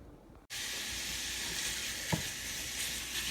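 Sausage and ground beef dropped into a hot skillet, bursting into a loud, continuous close-up sizzle with a brief scrape partway through; no one speaks.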